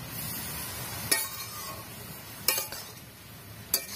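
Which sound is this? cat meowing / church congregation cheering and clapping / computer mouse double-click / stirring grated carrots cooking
stirring grated carrots cooking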